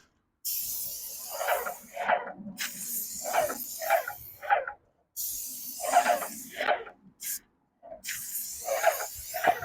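Aerosol spray paint is applied to a garage door in repeated hissing bursts of a second or two, separated by short pauses, close and fairly steady in loudness.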